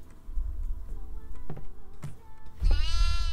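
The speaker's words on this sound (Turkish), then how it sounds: "Kuzu meyleyen odadasın sen büyük ihtimalle." Lamb bleating inside the Devour horror video game, a drawn-out wavering cry near the end that follows a few soft clicks and thuds over a low rumbling ambience.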